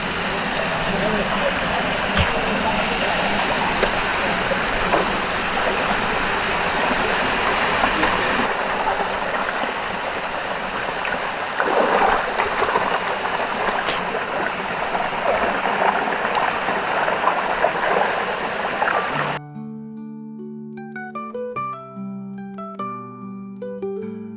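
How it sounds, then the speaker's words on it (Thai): A steady, loud rush of water from a resort waterfall beside a carp pond continues for about nineteen seconds before music takes over. "แล้วก็จะมีโซนน้ำตกด้วย"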